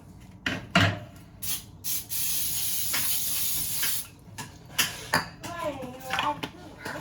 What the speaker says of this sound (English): spray your muffin pan with Pam or oil